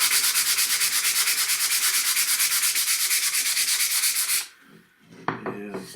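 Wood being sanded by hand with 3M Pro Grade Precision sandpaper, a loud, steady back-and-forth rasping in quick even strokes that stops abruptly near the end, followed by a short faint scrape.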